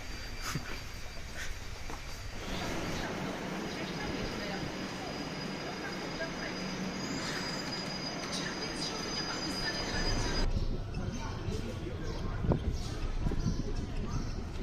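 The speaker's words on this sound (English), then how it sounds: "So see, this is the central Kolkata metro station, one of the most oldest I can say." A metro train at the old central Kolkata metro station, with a loud, steady rumble of wheels and carriages on the rails and squealing wheels throughout, the sound dropping and changing near the end as the train slows or moves off.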